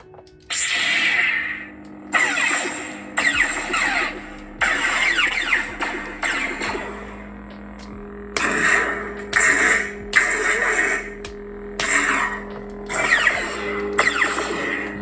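A chromed Star Wars Visions lightsaber with a 28mm speaker gives a series of electronic swooshing ignition hums in repeated bursts about every second and a half, loud and close, and some bursts cut off abruptly.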